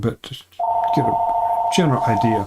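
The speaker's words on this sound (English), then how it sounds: "So that's my phone. My wife will get that." A telephone rings with a steady electronic tone that starts early and holds to the end, continuing under someone speaking throughout.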